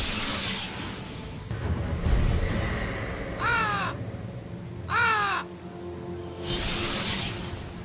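Two distinct raven caws in the Raven video game, each a harsh descending call around the middle of the clip, over a steady low ambient drone with a swelling whoosh near the end.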